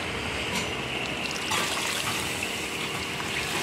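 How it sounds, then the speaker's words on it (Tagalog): Water pours steadily into a cooking pot for adobo made with pork and chicken, a continuous close splashing rush with no voices. "Lagyan natin siya ng tubig."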